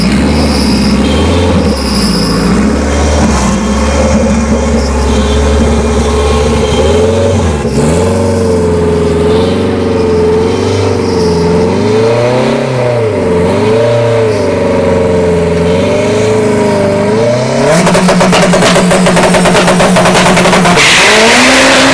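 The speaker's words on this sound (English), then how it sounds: "We got the Ram pickup and the Integra, the Turbo Integra." Loud drag racing at ShowTime Dragstrip with a Ram pickup and a Turbo Integra, engines roaring and rising and falling in pitch as they accelerate, with a sharp surge of harsh noise near the end.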